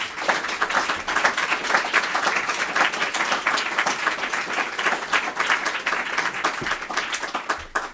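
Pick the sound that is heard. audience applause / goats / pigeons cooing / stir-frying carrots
audience applause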